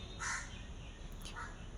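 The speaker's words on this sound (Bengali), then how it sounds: "কাক ডাকছে, লিটারালি কাক ডাকছে" Crows cawing at dawn: two short harsh caws, faint and distant, over a quiet background hiss.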